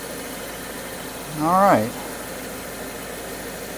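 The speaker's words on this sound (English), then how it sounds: "The engine is running." A 2014 Subaru Forester engine idles steadily after an oil change, a low continuous hum running throughout, while someone speaks briefly over it.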